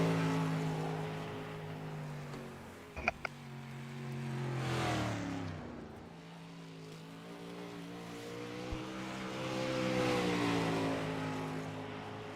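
Sprint cars in iRacing's 305 Outlaws class run laps at Williams Grove Speedway, engines droning and rising and falling in pitch as they pass, with a couple of sharp clicks partway through.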